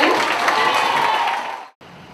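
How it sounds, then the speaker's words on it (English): Audience applause roars as a dense, loud wash of clapping hands, steady for over a second and a half before fading and cutting off abruptly, with faint room sound after. "I would like to have you give a big round of applause for Mr. Dean Freeman."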